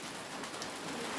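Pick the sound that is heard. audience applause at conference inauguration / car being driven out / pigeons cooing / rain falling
rain falling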